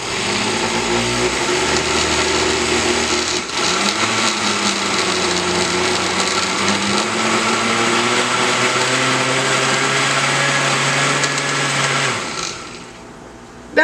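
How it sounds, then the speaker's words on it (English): A kitchen blender whirs through a Bajan cou cou mixture, a loud steady motor drone that shifts pitch as the load changes, then cuts off near the end. "And now I am going to blend this together."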